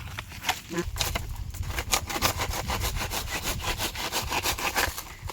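A saw grinds steadily through wood with rapid rhythmic rasping strokes over a motor's hum, close and loud throughout.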